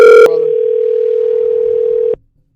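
Ringback tone of an outgoing telephone call that goes unanswered: a short beep, then one loud, steady tone lasting about two seconds that stops abruptly, heard alone with no voices.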